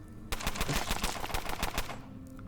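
A rapid burst of gunfire from the video game Underrail fires many quick shots in a tight rhythm for about two seconds. It plays fairly quietly and with no talking over it, then stops abruptly.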